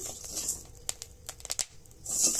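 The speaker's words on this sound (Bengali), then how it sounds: "এখানে কিছুটা কিন্তু ফুটছে চালগুলো" Rice grains roasting in a pressure cooker crackle and pop in scattered sharp bursts, with a denser crinkly hiss at the start and end and a quieter stretch in between.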